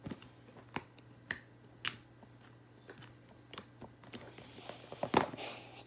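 Slime is squeezed and worked by hand, giving sparse, sharp little clicks and pops at irregular intervals, quiet and close with no voices.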